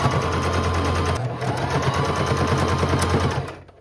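A sewing machine running a top stitch on a thrifted garment, a rapid steady mechanical whirring with fast needle rhythm, loud and close, slowing to a stop at the end.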